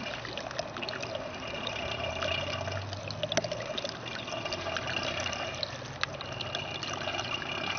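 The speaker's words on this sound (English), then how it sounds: "It just controls the amount of water getting in the bowl, the amount of flushing action that's taking place." Water from a garden hose flows steadily into a fine gold recovery bowl, a continuous close trickling and splashing with faint clicks and no talk.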